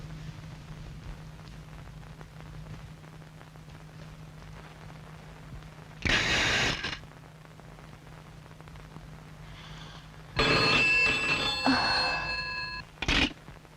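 A telephone rings in a bright burst of a few seconds near the end over a steady low hum, with a shorter noisy burst heard earlier.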